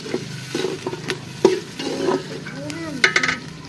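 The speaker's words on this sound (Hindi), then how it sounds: "इनको चम्मच घुमा दिया है, मैश कर दिया है" A spoon stirs and mashes onion, green chilli and tomato masala in hot ghee, producing a steady sizzle under repeated scraping strokes and occasional metallic clinks, close and clear.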